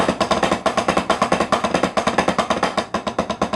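Snare drum double-stroke roll with an accent on the first stroke of each pair, a fast steady stream of closely spaced hits in uneven strong-weak pulses, loud and close with no talking.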